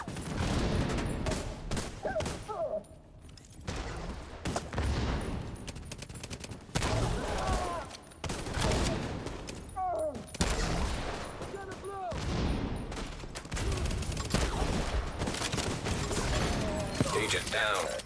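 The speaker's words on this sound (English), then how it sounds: "I forgot about the suppressed LMGs" Suppressed light machine guns firing in a video game, in repeated dense bursts of muffled rapid shots with short pauses between them, mixed with game effects and occasional voices.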